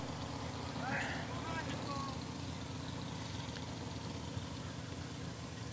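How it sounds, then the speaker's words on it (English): Overpowered racing boat engines starting up at a pro boat race, a steady low rumbling drone with distant revving, heard under a commentator's voice. "I hear overpowered boats starting up."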